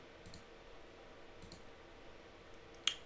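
Computer mouse clicks while working in Excel come as a few faint, sparse taps, with a sharper, louder click near the end over a quiet background hum.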